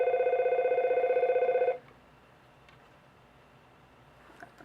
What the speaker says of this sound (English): the phone's gonna go off